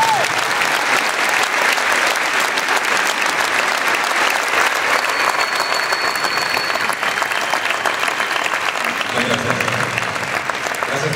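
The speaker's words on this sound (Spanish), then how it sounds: "un nuevo aplauso para todos ustedes" Sustained, loud audience applause fills a hall during a speech event, a dense steady wash of clapping that carries on for several seconds with a little crowd noise beneath it.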